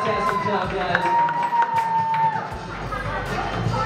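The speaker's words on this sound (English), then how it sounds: "Round of applause for both teams right here making it all the way to the finals." A crowd at a beer pong tournament final cheers and claps for the finalists, a noisy mix of voices, whoops and scattered applause, with someone talking over it.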